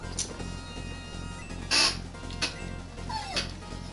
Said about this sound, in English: Hearing your little puppy whimpers.